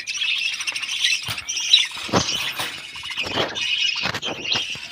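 Small pet birds squawk and chirp close by in repeated harsh bursts and shrill calls, several overlapping, with no one talking.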